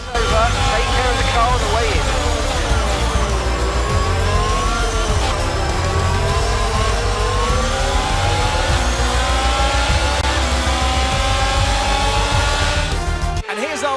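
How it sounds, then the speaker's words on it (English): Formula 1 race cars with Ferrari among them roar through the F1 22 video game. A loud, continuous engine whine with shifting pitch runs throughout, ending abruptly. "Winner pulling their Ferrari into Parc Ferme after a fantastic race."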